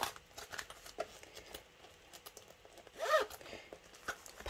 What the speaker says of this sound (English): There is a zip pocket here.